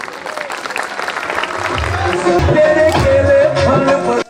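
Sustained applause from a crowd at a student celebration ceremony, steady clapping that swells and continues for several seconds, with a faint voice over it.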